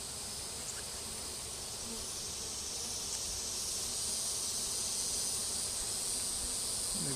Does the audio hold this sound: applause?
no